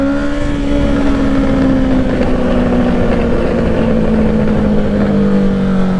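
A Honda CBR650R inline-four motorcycle with a Black Widow exhaust and no dB killer holds a loud, steady, close engine drone during a small wheelie, its pitch slowly falling.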